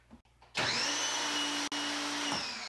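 An electric pressure washer with a 15 amp, 1800 watt motor starts up after a brief quiet moment, then runs with a loud steady whine and hum, cutting out for an instant midway before continuing.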